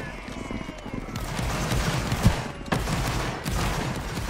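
Musket volleys in a Napoleonic Wars battle game with French regiments against Russia: a steady, dense crackle of distant and mid-range shots rolls on, with a few sharper reports and heavier thumps mixed in.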